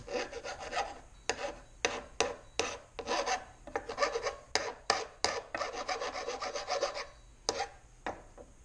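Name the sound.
filing metal burrs on a Corona weeder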